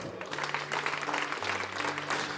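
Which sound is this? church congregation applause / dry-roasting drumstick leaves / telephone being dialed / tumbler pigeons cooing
church congregation applause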